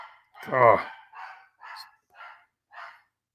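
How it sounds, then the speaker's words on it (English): A pet dog barks nearby indoors, one loud full bark followed by four softer, evenly spaced yaps, clear and isolated against silence. "That's my dog barking."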